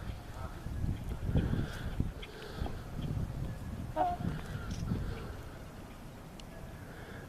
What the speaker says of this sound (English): Got some more geese